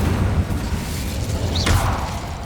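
An Incendio fire spell cast in Hogwarts Legacy, heard as a loud, continuous low roar with a rising whooshing sweep partway through.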